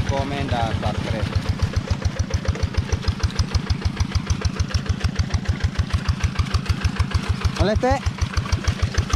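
A dompeng hand tractor engine works a flooded rice field in South Sulawesi, thumping in a fast, steady beat, loud and close throughout, with a voice talking briefly over it.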